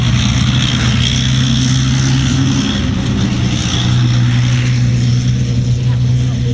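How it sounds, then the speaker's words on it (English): A Scorpion tracked armoured vehicle of about 8 tonnes with a Rolls-Royce diesel, at Bovington, races off with a steady loud engine drone and rumble running the whole time under a voice. "As you can see, as it races off, it's a very quick, very mobile vehicle"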